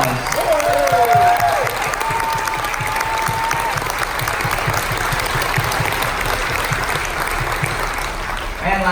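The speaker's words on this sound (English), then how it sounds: "Let's give them a big round of applause." Crowd applause at a military appreciation party for veterans aboard a cruise ship, steady clapping from many hands with some cheering and voices mixed in, sustained at a strong level throughout.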